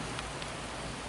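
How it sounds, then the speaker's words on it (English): Steady rain falls outdoors at a horse pasture, a dense, even hiss of drops that fills the short stretch with no talking over it. "I don't know where this rain come up."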